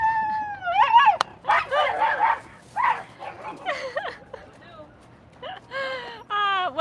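A loud schnauzer barks, yips and howls in rising and falling cries, bursts coming in quick irregular runs close by, mixed with people talking.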